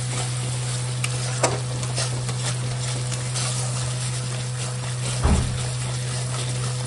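Raw papaya ghonto sautéed in a pan gives a close, continuous sizzle with scraping stir strokes and occasional spoon knocks over a steady low hum.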